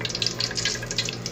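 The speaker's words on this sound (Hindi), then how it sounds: "ऑयल में से पानी की आवाज़ है" Water hissing and sputtering in hot oil in a pan while aloo bhindi, potato and okra, cooks, a steady close crackling sizzle with no talk.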